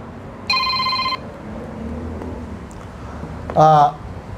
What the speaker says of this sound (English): I should have put my phone on silent.